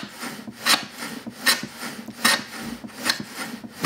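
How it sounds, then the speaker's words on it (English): Hand plane shaving wood on a shooting board, a steady series of rhythmic rasping strokes about every three quarters of a second, close and moderately loud with no talk. "just shaving it down a little bit at a time, doing a really nice job"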